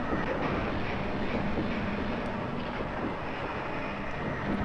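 A steady, droning engine hum runs in the video game Shadow Man, a dense continuous rumble with no break or change in level across the whole stretch, heard alone without any talk.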